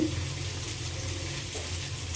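Paneer frying in oil in a pan, a steady soft sizzle that holds at an even level throughout, close by, with no talking.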